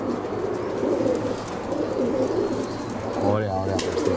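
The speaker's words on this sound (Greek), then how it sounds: "Ωραία, ωραία περιστέρι." Pigeons cooing on a Greek rooftop among the birds, under steady background noise and people talking, with a clearer burst of throaty cooing near the end.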